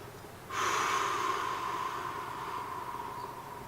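A long, steady exhalation of slow deep breath begins abruptly and continues evenly for several seconds, close and breathy, with no talking.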